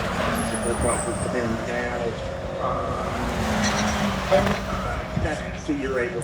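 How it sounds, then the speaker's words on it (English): Subaru BRZ and Toyota race cars run on track at a GT World Challenge America race weekend, their engines droning and shifting pitch at a moderate distance while voices talk over them. "We got some cars on track right now."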